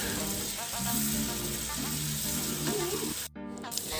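Potatoes crackle and sizzle as they fry in hot oil over a rekindled flame, a steady frying hiss with some speech alongside it.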